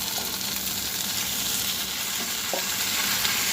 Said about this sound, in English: Next we're going to put our pasta back in the pan here.